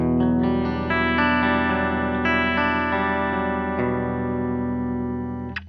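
A clean electric guitar rings out sustained chords through an Orange Terror Stamp amplifier, bright and dry, with notes changing every second or so and no voices.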